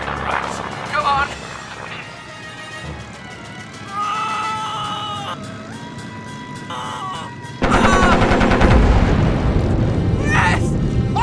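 Cartoon gunfire and booming blasts from a shootout with green brain-sucking alien invaders, quieter bursts early on giving way to a loud, dense barrage, mixed with shouting cartoon voices.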